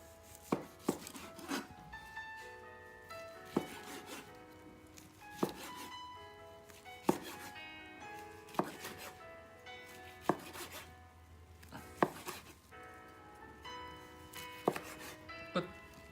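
A knife chops through rolled gimbap on a cutting board, giving about a dozen sharp, evenly spaced thunks with soft rustling between strokes, close and clear with no talking.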